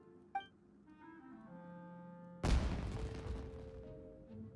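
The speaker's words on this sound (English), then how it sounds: "Was that an explosion? It sounded like fireworks." One sudden loud firework burst in Genshin Impact breaks in after a few soft musical tones, then decays into a crackling rumble under lingering game music.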